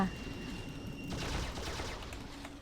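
Rapid bursts of gunfire from a fighter craft shooting at a bomber plane in the online game ACE online, a dense crackling volley that swells after the first second and continues to the end.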